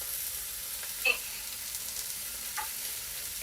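Steak for a Thai red curry sizzles in a hot pan, a steady hiss of frying with a couple of soft utensil clinks, fairly quiet and with no talking.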